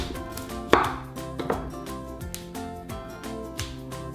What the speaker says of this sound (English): The first thing we're going to do is just chop all the vegetables roughly the same size.